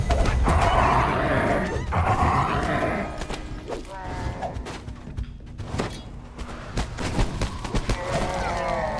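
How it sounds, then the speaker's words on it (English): In Dungeons & Dragons Online, a hobgoblin bangs an alarm with repeated sharp knocks and clanks. The banging sits over a dense background of game noise and gruff voices. "A hobgoblin furiously bangs an alarm as you approach the arena."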